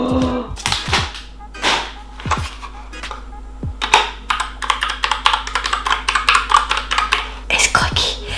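Fingers type on a Rainbow Edition Kraken mechanical keyboard, its sharp clicky keystrokes close and crisp, first in a few scattered presses and then in a rapid, steady run, with a steady hum underneath.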